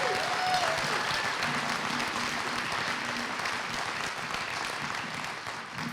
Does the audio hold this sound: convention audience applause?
yes